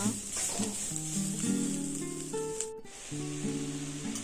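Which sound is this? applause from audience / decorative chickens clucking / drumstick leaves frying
drumstick leaves frying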